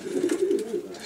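Racing pigeons cooing nearby in a loft, a low soft warbling coo repeated in short pulses, clear and fairly loud.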